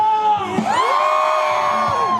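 Fans at an NC Dinos baseball game in Daejeon let out a bigger cheer on command: a short lead-in, then a loud, steady wall of crowd shouting and whooping lasting nearly two seconds.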